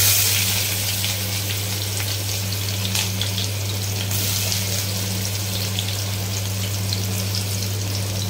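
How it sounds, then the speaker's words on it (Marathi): Onion frying in hot oil in a kadhai gives a steady, continuous sizzle with a fine crackle, heard close and alone with no talking. "फोडणीला कांदा दिला आहे।"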